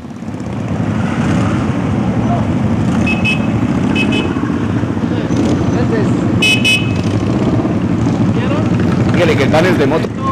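A steady rumble of many motorcycles rolling past, with short horn toots cutting through and people talking over the engine noise.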